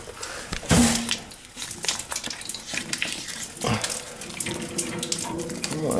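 Water gushes steadily from a kitchen sink valve that won't shut off, a loud continuous hiss and splash close by, with clattering handling noises throughout.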